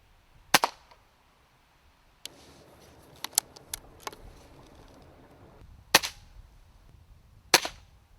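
Night rat shooting with an FX Indy air rifle in a yard: four sharp, snappy airgun cracks spaced across the clip, with a few lighter clicks and faint handling noise in between.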